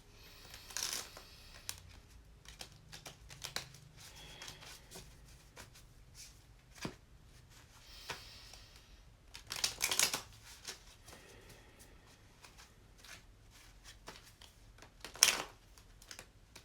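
Cards being shuffled close by, soft riffles and slaps coming in irregular bursts with quiet gaps, a few sharper snaps standing out.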